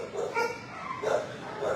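Several puppies in a shelter kennel give short high yips and whimpering barks in quick, irregular bursts, close by and fairly soft.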